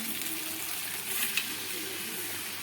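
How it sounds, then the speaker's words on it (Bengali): Mutton stock goes into spiced mutton frying in a pan for a spicy mutton kosa. A steady close sizzle is heard with a brief splash and a bubbling hiss as the liquid hits. "এখন আমি যে মটনের জলটা আছে সেটা দিয়ে দিচ্ছি এই মটনের মধ্যে"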